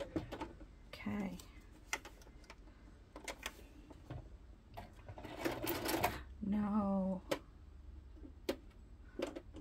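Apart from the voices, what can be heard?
sewing machine stitching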